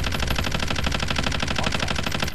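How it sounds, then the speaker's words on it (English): Rapid automatic gunfire from a Call of Duty match, a loud, continuous burst of closely spaced shots rattling without pause for the whole stretch, with no talk over it. "I'm taking fire!"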